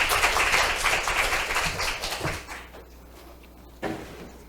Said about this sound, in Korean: 뜨거운 박수로 환영해 주시겠습니다